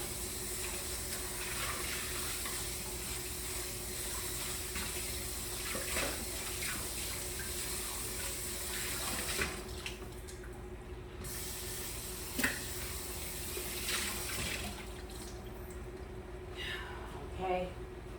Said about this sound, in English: Try to wash the skillet right quick.